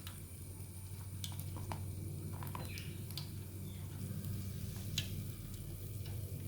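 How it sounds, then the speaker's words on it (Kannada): Egg kebab pieces frying in hot oil give off a steady, close sizzle with light crackling pops scattered throughout. "ಈಗ ನಾನು ಉಳಿದ ಮೊಟ್ಟೆ ಪೀಸನ್ನೆಲ್ಲ ಎಣ್ಣೆಯಲ್ಲಿ ಬಿಡ್ತೇನೆ"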